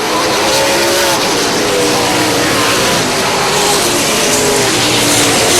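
Race cars roar at full throttle on a short-track oval as the green flag drops, a dense, continuous wall of engine noise with rising revs, close and loud throughout.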